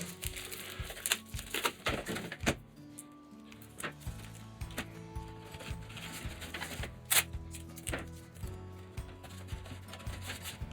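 Green colored tape is pulled off a roll for labeling black seed trays, making a run of close, crackly peeling and crinkling noises with a few sharp ticks and clicks, and no talking over it.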